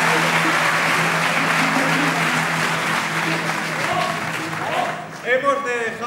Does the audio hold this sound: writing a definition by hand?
no